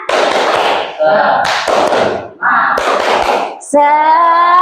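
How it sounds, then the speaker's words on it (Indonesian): A group claps a rhythmic spirit clap in loud unison bursts separated by brief pauses, with chanted voices joining in between the claps. "Oke, tepuk semangat."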